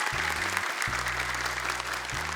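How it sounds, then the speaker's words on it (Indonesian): Steady audience applause for child contestants on an Indonesian Quran memorization quiz show, continuous and dense, with a low musical tone running beneath it. "Boleh tepuk tangan untuk mereka, kasih semangat."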